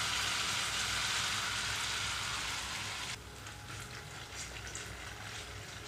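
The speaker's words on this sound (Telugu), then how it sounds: "లో ఫ్లేమ్లో ఉంచి వేయించుకుంటేనే చక్కగా ఫ్రై అవుతుంది, లోపలంతా పిండి లేకుండా." A wheat-flour and coconut rotti frying on low flame in a pan, then covered: loud, steady hissing sizzle that drops noticeably when the lid goes on, leaving a softer continuous crackle.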